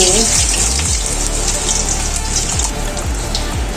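Paneer pakoras fry in hot oil and are flipped over, a loud, steady bubbling sizzle with a few soft low knocks from the turning.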